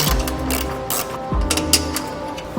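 A ratchet wrench loosening a 10mm bolt that holds the headlight on a 2017 Infiniti QX60, giving bursts of close, rapid mechanical clicking with short pauses between strokes.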